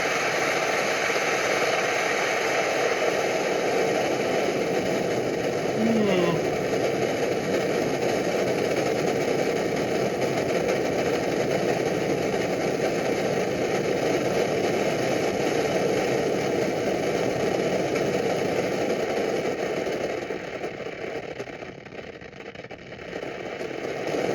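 A Primus Omnifuel or Trangia X2 multifuel stove burner roars with a steady, close hiss for over twenty seconds, then drops in level briefly near the end as the flame is dialed down.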